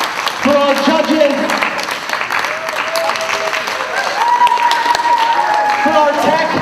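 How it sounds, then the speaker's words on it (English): Audience applause at a convention wig contest, a steady wash of clapping that runs the full length, loud and close, with a voice speaking over it through much of the stretch. "if we can have one more round of applause first for all of our contestants"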